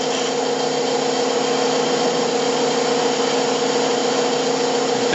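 On a wood lathe, a skew chisel trims a small nub off a turned toothpick holder, producing a steady whirring, scraping drone of the spinning workpiece under the cutting edge. The sound is continuous and close, with no talk.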